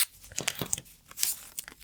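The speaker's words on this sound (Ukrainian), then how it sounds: "гарненько склеюємо все скотчем або малярною стрічкою, щоб не розпалося" Short bursts of adhesive or masking tape being torn and crinkled while taping together paper dress pattern pieces, several quick rips and crackles close up.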